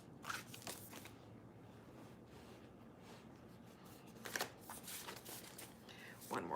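Tarot cards being handled and shuffled at close range, with soft papery riffles and slides in bursts over a low background hiss.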